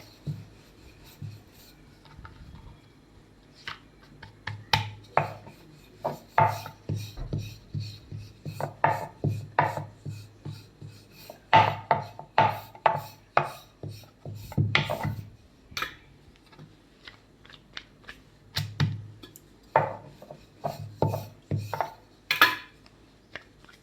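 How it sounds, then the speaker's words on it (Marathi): Rolling pin working dough sheets for khaja sweet on a board: repeated rhythmic knocks and rubbing rolls, close and fairly loud, in irregular bursts of strokes with brief pauses between sheets, no talking. "तर या पद्धतीने आपल्याला या अशा पोळ्या लाटून घ्यायचे."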